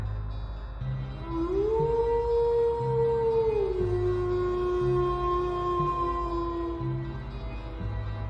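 A long, rising and sustained howl with a steady tone, standing out clearly over a low rumbling background, then holding and slowly fading.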